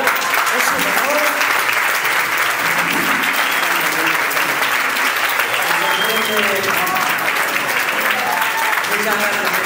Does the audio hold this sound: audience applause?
yes